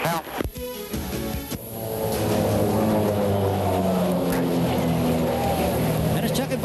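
Aerobatic airshow aircraft flying past at the 1987 Moffett airshow, a rising engine drone that swells to a loud sustained roar with shifting pitch, with announcer speech over the start.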